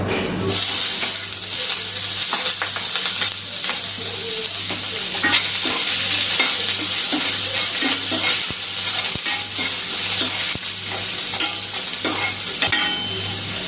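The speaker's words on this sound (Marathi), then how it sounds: "कांदा चांगला आपला तांबूस होईपर्यंत भाजून घ्यायचा आहे" Onions frying in oil for a spicy village-style eggplant bharit, a steady close sizzle running the whole time with occasional stirring scrapes and no voices.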